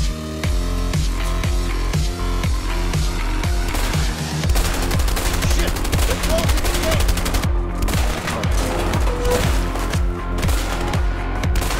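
Rapid, loud bursts of gunfire in the video game A Way Out, a steady stream of repeated shots with heavy low thumps running continuously and close, barely any pause between reports.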